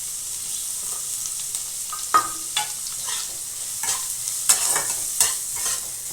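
Chopped onion frying in a pan over high gas gives a steady sizzle, with sharp clinks and scrapes from stirring scattered throughout and no voices.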